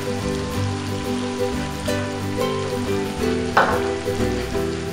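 About two cups of finely chopped onion fry in a pan, making a steady close hiss with a low hum underneath and one brief scrape of stirring.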